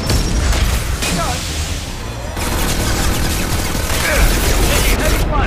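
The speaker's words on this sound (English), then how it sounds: "Taking heavy fire" Heavy gunfire and booming blasts in the sci-fi shooter Mass Effect 2, a dense, continuous barrage of shots and explosions filling the whole stretch, loud and close, with voices speaking over the combat.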